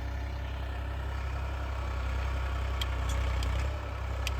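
Tractor engine idling steadily on a family farm, a low continuous rumble with a slight lift in throttle near the end, a few faint clicks above it and no talk.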